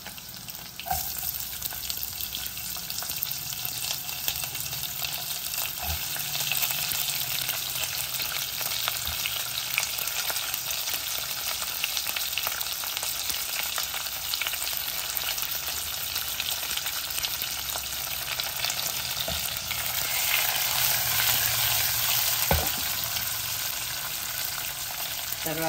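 Onions and garlic frying in hot oil for majjiga charu, a continuous close crackling sizzle that holds steady throughout, with occasional faint clinks and no voices.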